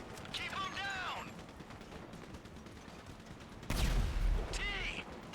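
Gunfire in the video game Grand Theft Auto 5, bursts of shots crackling under excited voices, with a louder heavy blast near the end.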